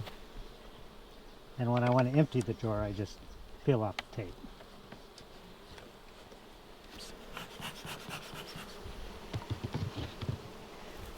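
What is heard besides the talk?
honey bees buzzing at hive with pollen trap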